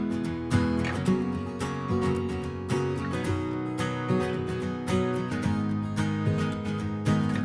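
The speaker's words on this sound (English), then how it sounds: "these two guitar patterns I thought were a really good layer for the acoustic guitar" Two layered acoustic guitar patterns from VST plugins play together in an acoustic pop arrangement, a steady rhythmic strummed and picked texture with regular accents running throughout, with no talking.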